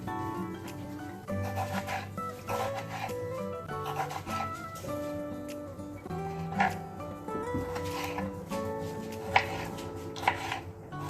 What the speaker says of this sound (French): ma tomate que je vais couper en petits morceaux